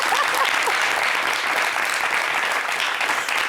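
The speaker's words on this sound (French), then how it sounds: "Applaudissons pour ça." A television studio audience claps steadily and loudly throughout, a dense continuous wash of applause.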